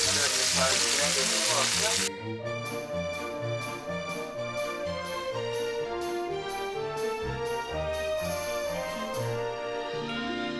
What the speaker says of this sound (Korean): 버터를 크게 한 스푼 넣고 닭장각을 같이 넣고 구워줍니다